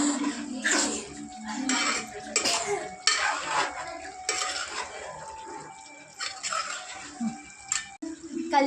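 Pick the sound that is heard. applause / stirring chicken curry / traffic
stirring chicken curry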